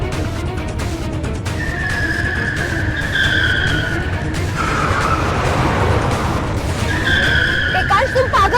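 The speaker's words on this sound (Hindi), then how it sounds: "ऐसे क्यों गाड़ी चला रहे हो?" A car driven recklessly skids with loud, sustained tyre squeals in two long bursts over a steady engine roar, with a voice speaking in between.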